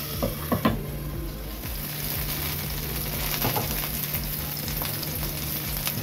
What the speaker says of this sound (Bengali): এটা যেহেতু সিদ্ধ করা না, সেহেতু আমি নেড়ে ডেকে দিচ্ছি।